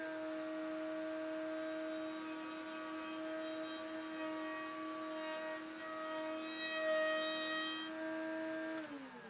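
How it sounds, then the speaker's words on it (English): Wood router fitted with a bearing-guided bit cutting a bevel along the edge of a wooden guitar bridge piece, a steady high whine with strong harmonics held for about nine seconds, rising slightly near the end before winding down. "Now with that on there, now I have a surface for the bearing to ride on. And I can cut a bevel on this piece."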